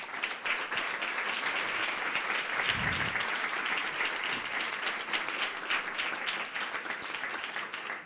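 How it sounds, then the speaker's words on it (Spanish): Audience applause for two guests at a film talk series, a dense, sustained clapping from a sizeable crowd that stays even and lively for about eight seconds without speech. "Os pido un aplauso para ellos dos"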